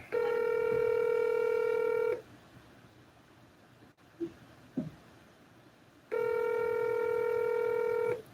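A telephone ringback tone sounds in two long, loud buzzing bursts separated by a quiet gap holding a couple of faint clicks, with no talk in between.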